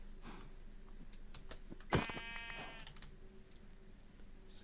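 A single Minecraft sheep bleats once, a short wavering cry standing out against quiet game ambience, with no talking.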